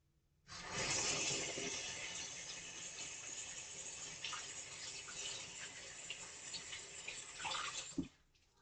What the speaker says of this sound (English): You are then going to rinse with clean running water.